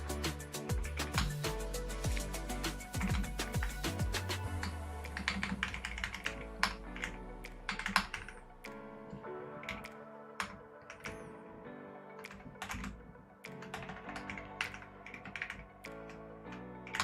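Typing on a computer keyboard, close and continuous, with dense rapid key clicks at first that thin into sparser, irregular taps and sharp keystrokes, with no talking.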